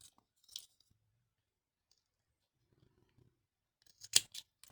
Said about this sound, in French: On va couper le surplus là, qui n'est pas forcément très très beau.